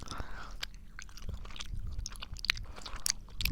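Close, crisp chewing and crunching of Flintstones chewable vitamins in the morning, steady mouth sounds with small bites and crunches, no talking.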